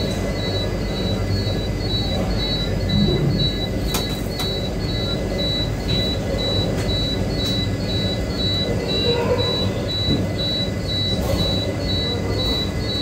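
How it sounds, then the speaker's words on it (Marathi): A passenger train departs Kanyakumari railway station in Tamil Nadu with a continuous close rumble of wagons and wheels, occasional faint squeals and clicks, and no speech. "आपली गाडी बरोबर या ठिकाणी 10:41 निघालेली आहे"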